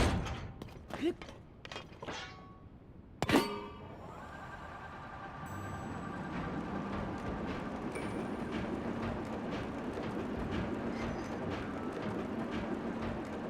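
A train ride in the video game Zelda: Tears of the Kingdom: a steady rumbling rail roll with a faint mechanical hum. A sharp thunk comes just before it, and a few scattered knocks sound earlier.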